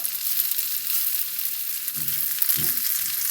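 An eggplant omelette frying in hot oil, a close steady sizzle with a few soft spatula scrapes and a brief tap near the end, no talking.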